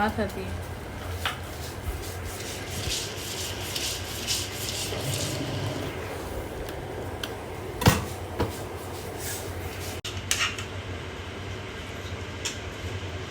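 A stone grinder rubs and scrapes as onion is crushed into paste by hand, a continuous rough grinding with a few sharp knocks, while a voice talks over it.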